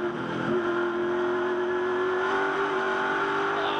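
A Ford Mustang touring race car at the Clipsal 500 street circuit holds a loud, sustained, high-revving engine note that climbs gradually, heard close without talk.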